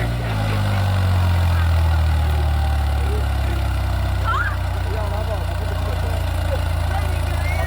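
A New Holland 3630 4x4 Super Plus tractor engine runs steadily with a heavy low rumble throughout, close and loud, with no pauses.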